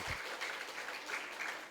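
A church congregation applauds after a deacon is honoured for graduating top of his class from graduate school; steady, fairly soft clapping fills the whole stretch without pause.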